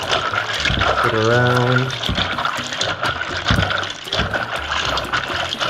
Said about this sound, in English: I always continuously wash my hands when I cook as well